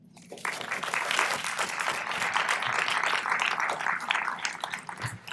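Banquet guests at a Kiwanis Club installation and awards dinner break into applause, the dense clapping swelling quickly and holding steady, with a few scattered voices among it.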